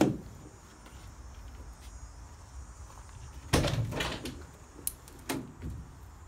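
Heavy 3/8-inch plate steel doors on a diesel Dodge Sprinter van in a junkyard, opened and shut with a loud solid thud followed by a few metallic clunks and latching knocks, over steady outdoor background hum.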